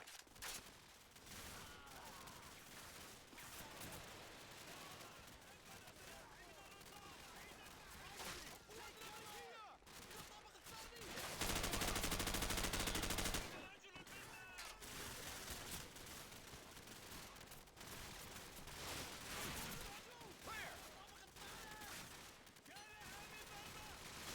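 Sustained machine gun fire in Call of Duty 4, a dense continuous rattle of shots throughout with a louder roaring burst in the middle, under faint voices.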